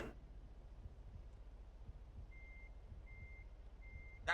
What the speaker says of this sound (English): that's a reverse sound, correct?